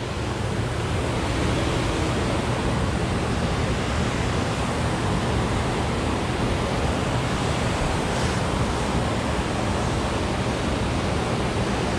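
Water rushing from a waterfall below Center Hill Dam, a steady, loud, unbroken roar of turbulent current that persists without pause and with no talk.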